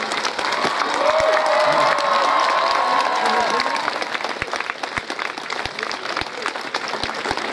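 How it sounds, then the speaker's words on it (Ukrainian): A gathering applauds group coordinators with loud clapping mixed with cheering and shouted voices, the crowd noise swelling early then settling into scattered claps and sharp knocks. "а ну кожен координатору своєму оплески найсильніші"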